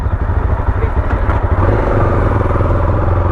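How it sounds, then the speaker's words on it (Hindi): Motorbikes and cars start up and idle for boarding a RoRo ferry from Mumbai to Mandwa, a dense close engine rumble and clatter running steadily throughout with a steady low drone underneath. "आप लोग अपनी गाड़ियाँ और बाइक चालू कर लें"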